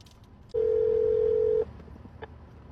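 A single steady phone tone sounds for about a second over a quiet room, then stops, with faint background noise before and after.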